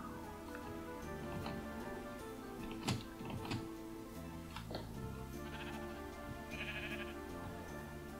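Sheep bleating in the Minecraft video game, with several wavering bleats over a busy game soundscape of light ticking and clicks.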